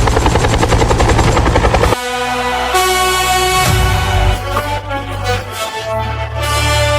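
Cartoon helicopter attack with a loud, steady rotor drone and buzzing throughout, plus sharp bursts and shifting tones that fit gunfire, with no speech heard.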